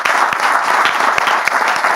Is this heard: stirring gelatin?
no